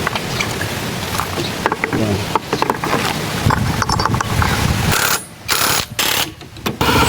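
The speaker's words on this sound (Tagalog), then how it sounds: "hindi po siya ganoon kaingay kasi nga sakto lang sa sukat ng kanyang fan belt sa torque drive at saka sa pulley" A Suzuki Burgman Street scooter running with a new fan belt on its torque drive and pulley, giving a rattling, whirring mechanical drone that cuts in and out in short bursts near the end.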